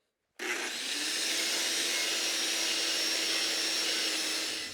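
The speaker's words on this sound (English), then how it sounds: "take off the big chunks with a wire wheel" A wire wheel on a power tool scours rust off a steel moldboard plow in a shop, a loud, steady abrasive whir that starts abruptly and holds continuously with no talking.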